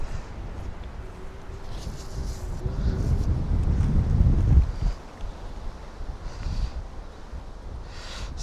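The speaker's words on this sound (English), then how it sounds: "Wind's blowing a little too hard." Wind buffets a drone's microphone high above Dollis Hill in London, a low rumbling roar that swells to a strong gust midway, then eases to a steadier rush.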